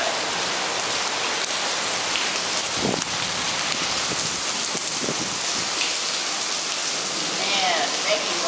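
Steady rain pours outdoors, a loud continuous hiss of drops on surfaces with a few brief thumps and faint voices briefly audible beneath it.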